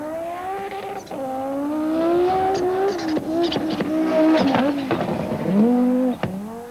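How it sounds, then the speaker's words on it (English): An Audi Quattro Sport rally car climbs at Pikes Peak, its engine revving hard through several rising pulls and abrupt gear changes, loud and close, with popping and crackling between shifts. "Audi Quattro Sport"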